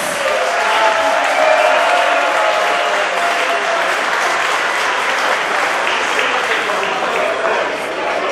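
Warm audience applause greeting a youth wind orchestra at a Gogolin concert: dense, sustained clapping from a large crowd, loud and even for over eight seconds, with a murmur of voices underneath.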